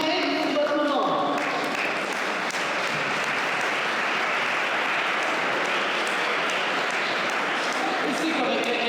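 Sustained audience applause at a gala recognition evening in Lanoraie, welcoming a woman back to the stage; dense, steady clapping fills the room throughout, with voices mixed in.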